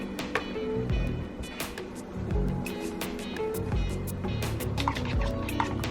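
Thick white soap batter is poured into a mold, giving soft wet liquid glugs and drips that run steadily through the clip, close by and fairly quiet, with faint clinks and handling noises and no talk.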